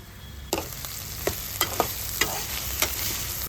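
Onions and green chillies sautéing with salt in a pan, a constant sizzle broken by about seven sharp spatula scrapes and taps at an uneven rhythm, close and clear with no speech.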